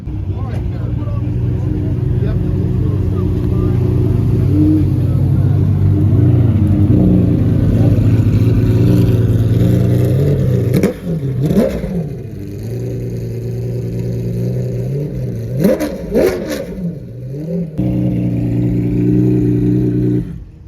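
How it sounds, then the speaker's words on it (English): A BMW V12 engine at the Pebble Beach Concours, loud and close, holds a deep steady drone, then rises and falls through several sharp revs, with people talking over it. "Unbelievable, that sound from the BMW V12."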